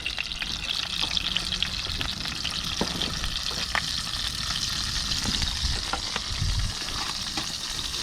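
Fish frying in a pan: a continuous close hiss and sizzle of hot oil with scattered crackles and pops, steady throughout, no talking.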